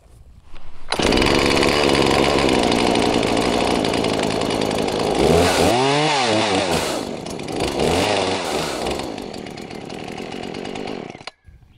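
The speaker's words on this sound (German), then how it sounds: "Und dann können Sie ganz normal die Kettensäge starten." A Husqvarna 120 Mark II chainsaw engine catches after a second of quiet and roars steadily close by, its pitch rising and falling with throttle blips before cutting off abruptly.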